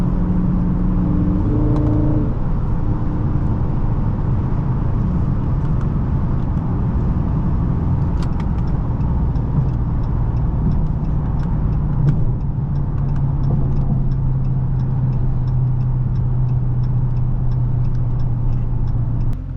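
A 2022 Dodge Charger Scat Pack with the 392 engine accelerates hard from inside the cabin, a loud continuous engine roar and drone with shifts in pitch throughout, and no talking.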